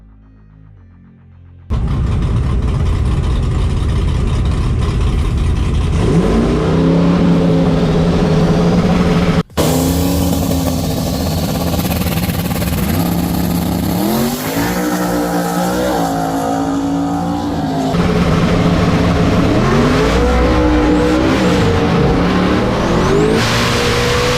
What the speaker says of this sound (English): Hit it a little too hard out the gate and spun the tires.